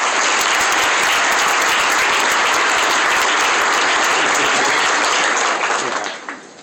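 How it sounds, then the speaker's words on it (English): Loud, dense applause from a large audience at a city State of the City address, steady and sustained for several seconds before tapering off at the end. "Let's give Cooper and Rowan a round of applause."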